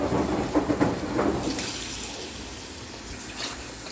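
Running water rinses dry fish for cooking, a steady broadband rush with a few splashy bursts early on, close and alone, easing slightly toward the end.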